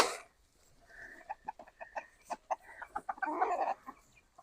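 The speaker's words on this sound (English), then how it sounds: "that's definitely a rooster" A rooster clucks in a quick run of short, separate calls that build into a louder, busier burst near the end, close by with no talking.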